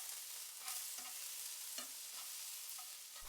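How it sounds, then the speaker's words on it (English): Garlic is stirred through eggplant frying in a pan, with soft repeated scrapes and gentle sizzling, quiet and close, and no talking. "Thoroughly stir the garlic through the eggplant."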